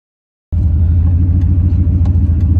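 Turbocharged Pontiac Trans Am F-body driving on the road, its engine giving a steady, loud, low rumble that starts abruptly after half a second of silence and holds constant throughout.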